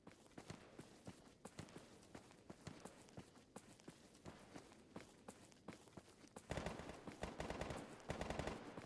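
Rapid bursts of gunfire in the video game S.T.A.L.K.E.R. GAMMA, crackling shots at a distance that grow louder and denser toward the end.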